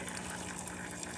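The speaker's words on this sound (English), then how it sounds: "Now we're gonna be testing the hot water, and as you can see, steady stream coming out" A Gaggia espresso machine runs a steady hot-water stream from its wand, a continuous close hiss and gush of flowing water with a faint pump hum underneath.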